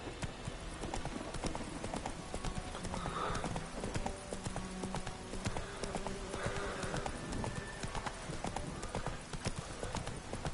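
Horse hooves clip-clop steadily through a Witcher 3 game scene, with an occasional whinny and continuous background game ambience.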